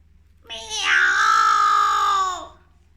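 A person imitates a hungry cartoon cat with a single drawn-out, high-pitched meow lasting about two seconds, close and loud, with no other talk.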